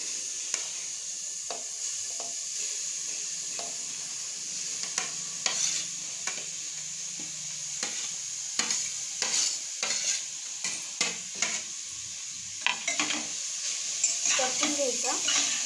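Grated carrot sizzles in hot ghee for carrot halwa while a spoon stirs and scrapes the pan in irregular strokes, a steady close frying hiss beneath.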